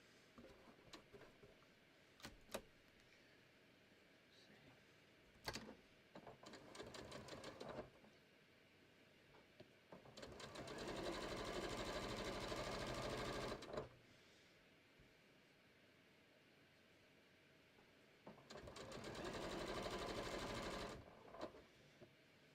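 Domestic sewing machine stitching new patio cushion covers, running in two long sustained bursts of steady whirring with short isolated stitches and handling clicks between them, close and alone without speech.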